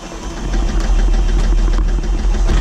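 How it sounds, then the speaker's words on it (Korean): A light aircraft engine starting up, a low steady rumbling drone that swells in the first half second and then runs loud and constant with a vibrating hum, close to the cockpit and free of talk. "엔진 스타트업"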